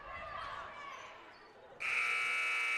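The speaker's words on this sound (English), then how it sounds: "And that's the buzzer for the first quarter." A loud electronic buzzer sounds at a girls' high school basketball game, ending the first quarter. It cuts in abruptly after a stretch of crowd and commentary noise and holds steady to the end.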